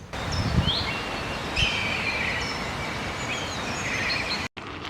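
A kite, a European bird of prey, gives several thin, high whistled calls, some sliding in pitch, heard at a distance over steady wind and rustling leaves.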